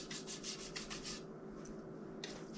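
A brush works baking soda onto a rusty can, with quick scrubbing strokes at first, then quieter scratchy brushing, close up and faint, with no talking.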